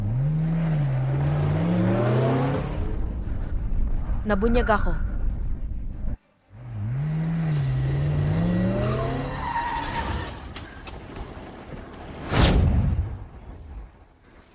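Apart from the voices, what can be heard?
car speeding away in a chase, from a drama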